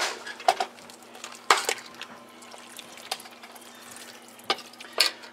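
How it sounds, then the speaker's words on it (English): Chili with tomato juice is stirred in a pot, giving wet, thick sloshing and occasional spoon knocks against the sides over a low, steady background hum. "Give everything a good stir."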